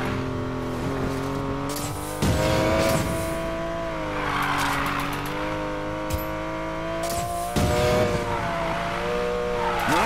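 A Porsche 911 Carrera S drifting in the video game Need for Speed Payback, its engine droning steadily with revving surges and tire squeal through continuous sliding, loud and close throughout.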